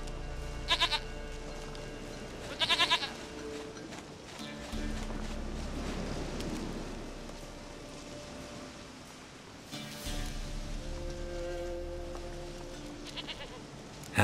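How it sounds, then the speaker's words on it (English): A goat bleats in The Witcher 3, two short nasal calls near the start and more later, over a steady outdoor ambient bed with a low game drone. "Goat of mine, dearest, sweetest goat."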